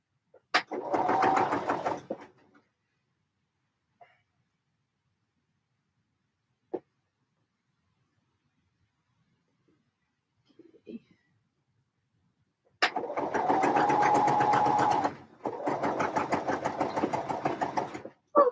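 A sewing machine stitches a side seam in bursts: a short run, a long pause with small clicks, then two longer runs of rapid, steady stitching close by.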